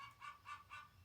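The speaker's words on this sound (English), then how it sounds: "You might hear some chickens in the background." Backyard chickens clucking in three short, rising bursts about a quarter second apart, faint and slightly distant, with no voices over them.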